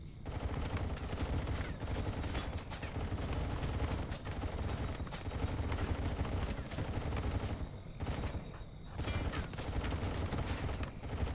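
Dense, continuous bursts of plasma gunfire in a Rimworld firefight with Warhammer 40,000 Orks, rapid and overlapping for the whole stretch with only a brief dip near the end.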